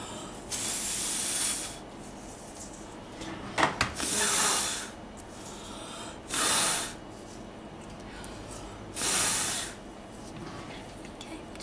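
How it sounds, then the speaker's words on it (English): Short, close puffs of breath blown across polymer clay to spread metallic flakes, about four separate bursts of soft airy hiss with quiet gaps between them. "I'm going to quickly blow to get this to these metallic bits to spread out"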